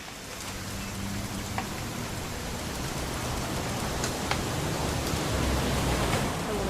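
Steady rain falls in What Remains of Edith Finch, an even, broadband hiss of drops on surfaces that slowly grows a little louder, with a few isolated drip ticks.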